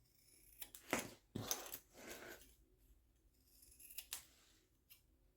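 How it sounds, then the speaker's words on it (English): Scissors trim the fabric corners of a sewn backpack, a few crisp close snips in short clusters with quiet pauses between them and no talking. "now we're going to trim the corners"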